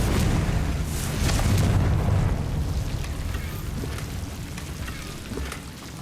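A Confringo spell explosion in a video game sets off a loud, rumbling blast that stays heavy for several seconds before slowly fading, with no voices over it.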